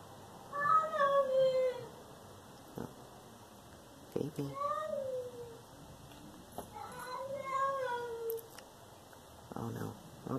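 A sad cat in a YouTube video meows in three separate bursts of drawn-out, plaintive, falling cries, with a few soft thumps in between, heard clearly at moderate volume.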